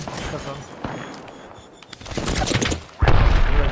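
Gunfire from an Apex Legends fight is dense and fast, building into a loud sustained burst near the end over busy game noise.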